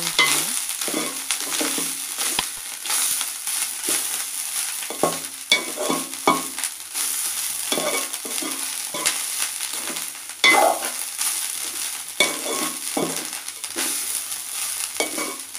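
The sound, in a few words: frying onions, curry leaves and dried chilies in pan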